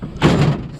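A sprung door on an old abandoned Jeep slammed shut, a single loud close thud lasting a fraction of a second.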